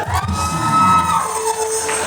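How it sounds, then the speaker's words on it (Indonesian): A crowd cheers and shouts loudly in a sustained burst, with whoops and high voices rising over the din. "Tepuk tangan yang meriah dong"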